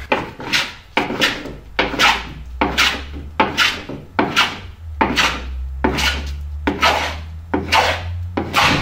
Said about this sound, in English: I love the sound of the plane when it finally cuts.